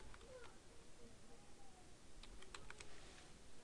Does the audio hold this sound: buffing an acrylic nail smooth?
no